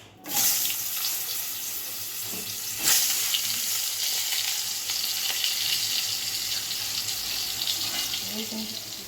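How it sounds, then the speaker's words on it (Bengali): Potato pieces fry in hot oil with turmeric and salt for a Bengali rohu fish curry, giving a steady, close hiss that swells sharply at the start and again midway. "আলুগুলোকে ভালো করে তেলের মধ্যে ভেজে নিচ্ছি।"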